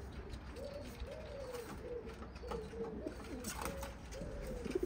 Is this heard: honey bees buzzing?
no